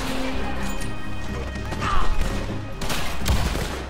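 Gunfire rings out in the Red Dead Online video game, a dense burst of shots and impacts over a constant backdrop of game sound, loud and close, with a couple of sharper cracks near the middle and end.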